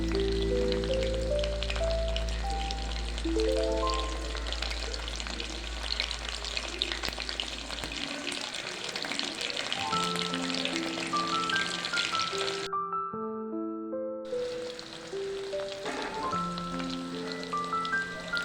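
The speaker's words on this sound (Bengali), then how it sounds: "তেল গরম হলে এতে দিয়ে দেব গ্রেড করা রসুন নাড়তে থাকুন লাল হওয়া পর্যন্ত এটাকে ভাজতে হবে" Grated garlic fries in hot white oil in a wok, a steady crackling sizzle with occasional stirring, heard under background music that drops out briefly before the frying resumes.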